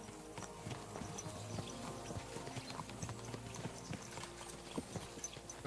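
Horse hooves clip-clop at a steady trot in Kingdom Come Deliverance 2, the close rhythmic clopping continuous and fairly loud with a faint mechanical clatter mixed in and no talk.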